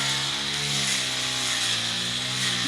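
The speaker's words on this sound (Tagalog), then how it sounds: "Grass cutter." A grass cutter runs continuously outdoors at a steady, droning engine pitch, fairly close and loud with no break.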